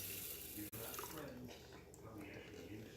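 Water poured into a Rival rice cooker over rinsed rice, a steady running splash with a faint knock at the start, fairly quiet and alone.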